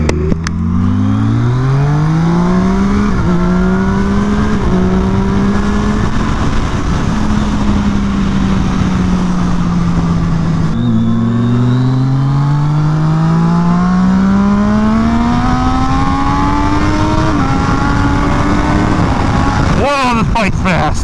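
Close, loud engine of a Triumph Daytona 675R race motorcycle on track, climbing repeatedly through the revs with sharp gear changes, roaring steadily under wind noise for the whole stretch.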